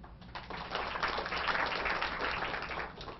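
A small audience at a talk on social media claps in a short burst that swells and then tapers, scattered hands close by.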